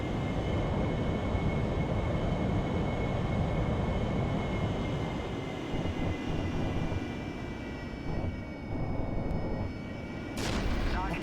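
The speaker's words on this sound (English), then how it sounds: "It looked like a missile actually fucking hit us." Cockpit of an AV-8B Harrier in the DCS combat flight game: a steady jet engine drone with faint whining tones runs throughout, then a sudden loud broadband burst of a missile impact strikes near the end.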